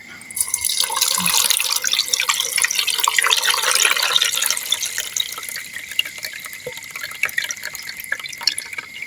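Red ant eggs are rinsed under running water. A loud splashing tap stream fills the first few seconds, then it thins into softer trickles and scattered drips.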